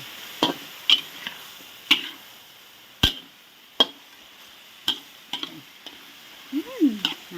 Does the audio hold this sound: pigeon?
no